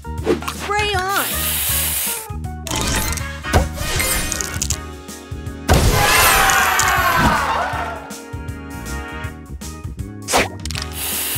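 The spray booster effect in the Match Masters mobile puzzle game sounds as a dense hissing spray burst mixed with mechanical clicks, chimes and sliding tones, loud and busy over game music with an announcer voice.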